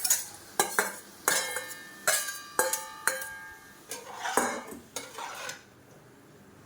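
Vegetables stirred in a pan with boiled chicken, a metal spatula clanking against the pan in a steady run of sharp scrapes and knocks over a faint sizzle, then stopping into near silence.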